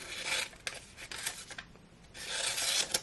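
A small Case XX Rattlesnake pocket knife slices through a sheet of paper in short rasping strokes, several quick scratchy cuts close by, with no speech.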